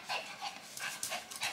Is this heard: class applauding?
no